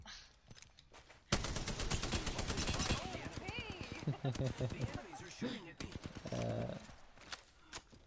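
Apex Legends gunfire, rapid bursts of shots and clattering game effects under steady talking voices, with quieter moments between.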